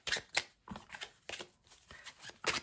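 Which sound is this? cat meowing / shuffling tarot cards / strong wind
shuffling tarot cards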